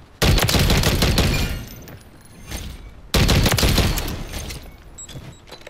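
Two long bursts of rapid submachine gun fire in Modern Warfare III multiplayer, loud and close, each rattling for over a second before trailing off into distant echoes.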